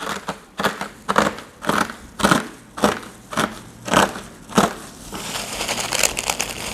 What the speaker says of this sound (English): We chop, we smash into smaller.